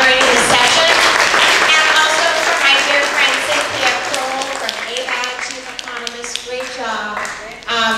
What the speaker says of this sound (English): let's give a round of applause to Catherine Lay for moderating this session